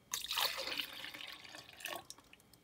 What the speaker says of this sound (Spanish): lo primero que yo hago es poner la leche en el vaso de la licuadora.